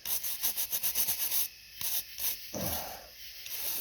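A brush scrubs dirt from a dug-up stone in a series of close, rhythmic rubbing strokes, with quieter, softer scrapes following after a short pause.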